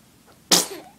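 A single quick, sharp sneeze bursts out close by after a near-silent pause, with a brief fading breathy tail.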